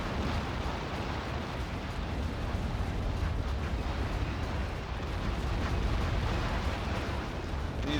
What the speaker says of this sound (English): I think it should make a rather nice explosion when it does die